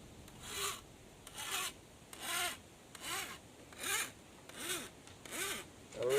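A cane knife blade is drawn along its back side against a sharpening file or stone in about seven separate rasping strokes, each rising and falling in an even rhythm, close and fairly quiet with no talking.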